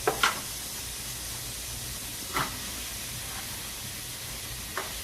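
Garlic and diced onions sizzle in a pan, a steady faint hiss with a few soft pops and stirring clicks, no talking.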